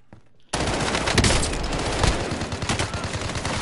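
Rapid automatic gunfire from a gun in a PS4 shooter game bursts in after a brief quiet start, then continues as a loud, dense, sustained stream of shots with no talking over it.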